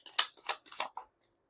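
Tarot cards being shuffled by hand, heard as four quick papery swishes and riffles in a row, close and fairly soft, with no one talking.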